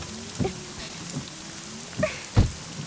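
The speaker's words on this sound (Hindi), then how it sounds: "मैडम बारिश हो रही है, बैठो।" Rain falls steadily in a soft, even hiss, broken by a few heavier thumps and drops hitting a nearby surface.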